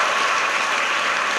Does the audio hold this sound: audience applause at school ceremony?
yes